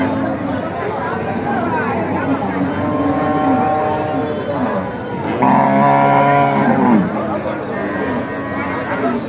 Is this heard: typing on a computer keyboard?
no